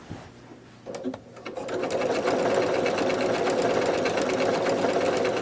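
A sewing machine with a binder accessory stitches binding onto a quilt, starting after a few soft handling sounds and then running in a steady, close, rapid rhythm.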